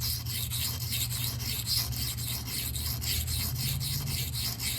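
A Rex45 steel knife blade rubs back and forth across a 400-grit super vitrified diamond stone, a steady rasping scrape that repeats in an even rhythm, close and continuous with no voices.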